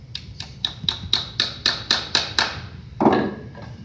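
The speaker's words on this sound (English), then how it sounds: "We can tighten up the wedges." Wooden wedges are tapped tight on a wooden vertical sliding window sash with about ten quick, bright hammer blows in an even rhythm, close and clear, ending in a brief scuffing knock.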